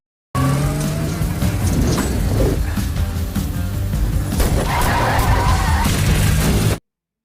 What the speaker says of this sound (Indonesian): Andrew dan Gareth yang berhasil masuk ke dalam langsung menaiki mobil dan membawa kabur mobil Bugatti tersebut